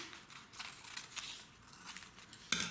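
Scissors snip through paper strips in a series of soft, crisp cuts for a children's craft of paper fish, close and quiet, with a sharper click near the end.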